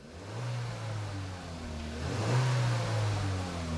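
A car engine starts and revs up quickly to its rev limiter, rising to a steady high whine that holds near the limit for several seconds, loud and close with no talking.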